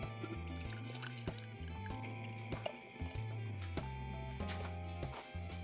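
Water is poured into a bottle, a steady gurgling stream whose pitch shifts in stepped glugs as it fills, close and fairly quiet with no talking.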